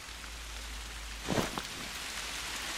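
Steady rain hiss in theHunter: Call of the Wild, a soft continuous wash throughout with a brief louder rustle or thud in the middle, heard alone with no talk.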